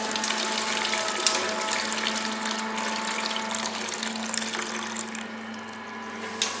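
A ZJ150 table top sugarcane juice machine runs with a steady motor hum while crushing cane, and juice pours out in a continuous close watery rush.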